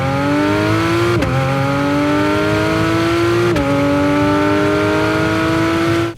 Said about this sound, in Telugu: ఇంజన్ సౌండ్ చాలా స్వీట్ అయితే ఉంటుంది